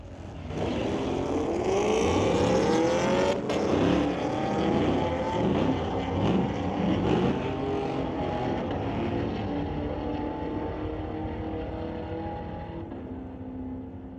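A 2022 Chevy Camaro and a 2010 Dodge Challenger drag racing at a street-legal night, engines roaring hard with rising and falling revs through gear changes, loud and close before fading into the distance.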